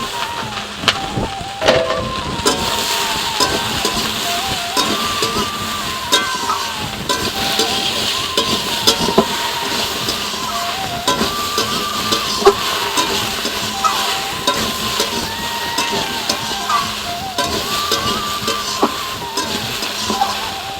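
Vegetables and gourd (bottle gourd) flowers fry in a pan for a vegetarian chorchori, a continuous crackling sizzle with scattered stirring clatters and scrapes, close and fairly loud, with no talking.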